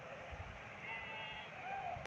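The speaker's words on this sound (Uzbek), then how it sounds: "Mana qo'ylar" Sheep bleat twice, faintly, over a steady windy background in cold, snowy mountain country in Siberia. The calls are brief and somewhat distant.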